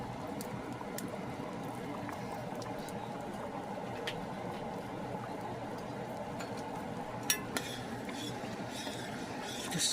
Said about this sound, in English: Just stir.